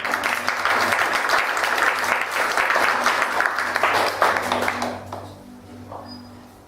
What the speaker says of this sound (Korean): 우리 감사의 박수 드리겠습니다